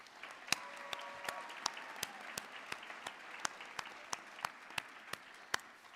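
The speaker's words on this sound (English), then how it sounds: "Let's have a round of applause for all of our honors students." Sparse, scattered clapping from a small audience at a 2022 nursing convocation honoring students, individual sharp claps ringing out at an uneven pace over a faint background hum.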